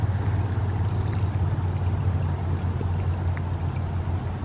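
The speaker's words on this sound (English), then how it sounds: "Can you hear the water?" Steady broadband rush of water flowing through a wetland near Corvallis, Oregon, a continuous close wash with a low rumbling undertone and no talk.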